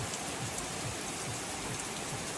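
Steady heavy rain pours down in a dense, unbroken hiss, with drops pattering on a nearby surface and no voices.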